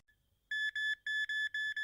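An airport walk-through metal detector sounds a bright electronic beep in five quick pulses, steady and close, after a brief quiet start.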